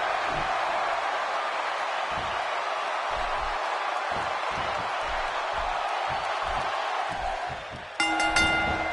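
A crowd in the WWE 2K16 wrestling video game roars steadily for a wrestler's entrance, a dense and sustained wash of noise that ends in a bright metallic ring.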